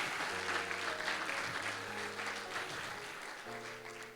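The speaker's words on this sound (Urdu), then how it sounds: "بولیں زوردار تالیاں خداوند یسوع مسیح کے لیے." A church congregation applauds loudly for Jesus Christ, a dense, continuous patter of many hands lasting several seconds while sustained music tones play underneath.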